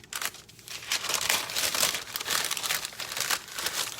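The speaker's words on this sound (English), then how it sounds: "I wrap them in a piece of parchment." Parchment paper crumpled and folded around portions of simple pie crust dough, a close, continuous crinkling with sharp papery crackles and no talking.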